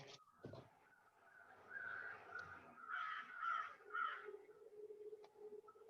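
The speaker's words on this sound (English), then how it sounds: "She has a bird, or the birds are outside." Crows caw outdoors, several short harsh calls in a loose sequence, heard faintly at a moderate distance with no talk over them.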